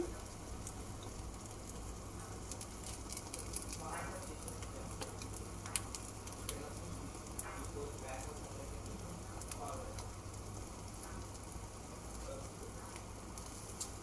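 An egg and fish roe snack frying in a pan on low heat, a faint, continuous sizzle with occasional soft pops and clicks, heard quietly with no voice over it.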